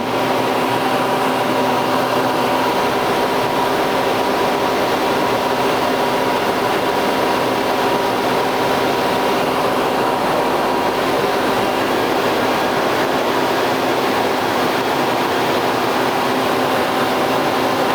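A steady, loud, even machining drone continues without a break while a cutter takes a cut on a metal rod for a rod bender, with no voices over it.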